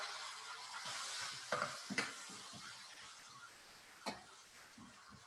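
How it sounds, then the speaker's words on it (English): Tomatoes in a pan for shakshuka are stirred over a soft sizzle, with a few sharp scraping clicks of the utensil against the pan standing out from a quiet, steady frying hiss. "Stir it up"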